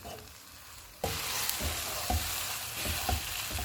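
After a quiet second, a pan of onions, milk and dried oregano bubbles and sizzles, with a few spoon strokes scraping through the thickening sauce at close range.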